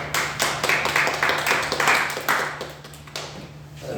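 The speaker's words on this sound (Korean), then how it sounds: "한 주간 동안 고난주간 특별 새벽 기도에 잘 드리게 하신 하나님께 감사의 박수를 먼저 한번 올려드리겠습니다." Congregation clapping in thanks during a special early-morning Holy Week prayer service at church, a steady patter of many hands through most of the moment, easing off toward the end over a low constant hum.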